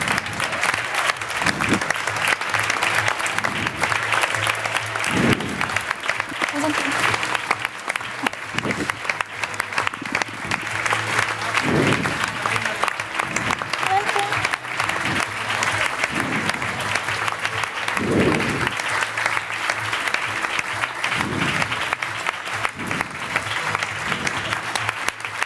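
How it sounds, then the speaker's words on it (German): An audience at an evening university event in a hall applauds on stage guests with steady, dense clapping that goes on throughout, over a faint background murmur. "Großen Applaus bitte."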